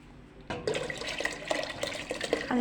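Water or broth pours into a cooking pot on the stove for lentil and vermicelli soup, a close, gurgling splash that starts abruptly and continues briskly.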